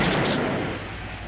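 A single loud pistol gunshot booms close by, with the blast decaying over about a second and no talk.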